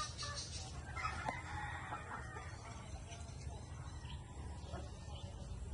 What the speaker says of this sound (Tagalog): tandang natin dito